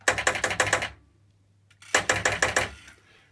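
Pop bumpers on a Zaccaria Ski Jump pinball machine under restoration fire in two rapid clusters of sharp mechanical clacks, about six hits each, separated by a brief pause. The clacks are loud and close, with no talking.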